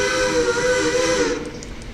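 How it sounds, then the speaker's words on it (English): A PRR three-chime steam locomotive whistle in a train simulation game sounds loud and close, a sustained chord with steam hiss that fades slightly toward the end. "she's equipped with a PRR 3 chime"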